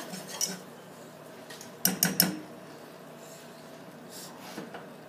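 A utensil stirs bubbling caramel for caramel popcorn in a pot after baking soda goes in, a few soft scrapes and a quick cluster of sharp metallic clinks against the pot, faint and sparse with quiet gaps between.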